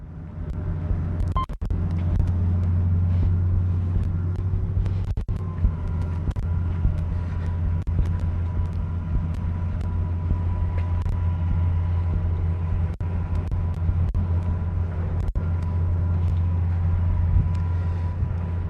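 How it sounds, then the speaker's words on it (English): An excavator-type construction machine drives over toward a dirt ditch on a dig site, its engine a steady, loud low rumble that runs the whole time with faint clanks on top. "So as Ben's driving over here"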